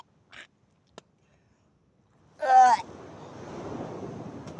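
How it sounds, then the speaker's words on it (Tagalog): Strong sea waves breaking on the shore: after a couple of faint knocks and a brief gust, a loud surge crashes in, then a steady rushing wash of surf lingers to the end. "Malakas po ang alon."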